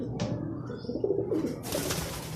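Racing pigeon coos as it lands at the loft after a race, a close and clear short cooing call with light bird sounds and a little fluttering around it. No one speaks.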